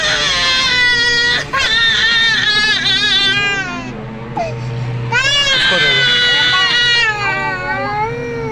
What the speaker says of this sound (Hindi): एक गंदा बच्चा रो रहा है।